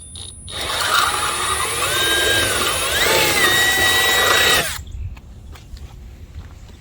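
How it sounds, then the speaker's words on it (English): A power drill enlarges an existing hole in a 2001 Honda Insight while quick-latch hood pins are fitted, a loud, close steady whine whose pitch shifts as it cuts, stopping abruptly near five seconds, followed by quiet handling noise. "we got our drill bit. We're just going to slightly enlarge in that hole."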